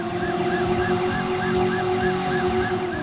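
Police sirens wail continuously in the Driver video game, several overlapping cycling tones rising and falling over a steady rumble of engine and rain, loud and close throughout with no talking.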